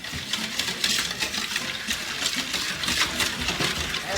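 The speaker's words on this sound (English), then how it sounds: "So we'll whisk this all up." A whisk beats coleslaw dressing of apple cider vinegar, sugar and celery seed in a bowl. Quick, rhythmic scraping and clicking strokes sound close and moderately quiet.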